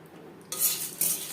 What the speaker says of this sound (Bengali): এক চামচ গোলমরিচ লো ফ্লেমে তিন চার মিনিট নাড়াচাড়া করে নেব